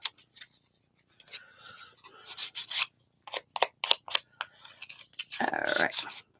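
The edges of a wooden Christmas ornament are lightly sanded by hand, giving short, uneven bursts of close, dry rasping strokes separated by brief pauses, with no voices.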